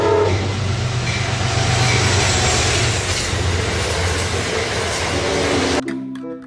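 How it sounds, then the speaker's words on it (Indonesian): A toy train runs with a steady, dense rattling rumble and clatter, loud and close, holding for nearly six seconds before cutting off abruptly into near silence. "Di sini ada kereta api."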